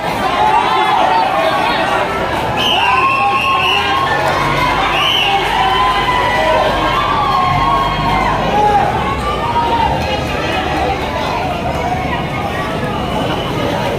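A large crowd of protesters at EDSA Shrine shouts and cheers loudly and continuously, many voices chanting slogans together in a dense, energetic roar.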